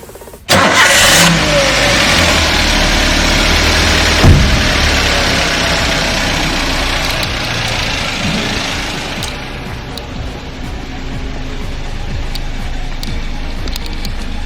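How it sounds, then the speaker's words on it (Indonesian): A car engine starts with a brief crank and catches, during a workshop exhaust emission test. It settles into a steady, loud mid-pitched idle that continues for over ten seconds without speech. "Kemudian kendaraan akan saya nyalakan"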